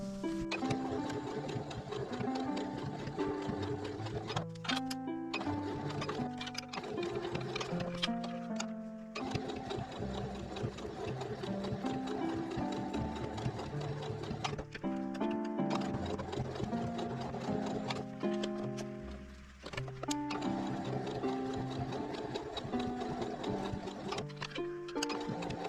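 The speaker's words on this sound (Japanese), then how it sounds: "それで返し口を塞ぐためにここからここまで端ミシンかけます。" Sewing machine edge-stitching the opening of a men's phone pouch, a fast rhythmic mechanical chatter running in bursts with short pauses between, close and steady.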